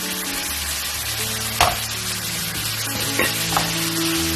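Chopped capsicum hits a pan of frying chicken for white sauce pasta, a loud close sizzle with a few sharp clatters and spoon scrapes as the vegetables go in and are stirred.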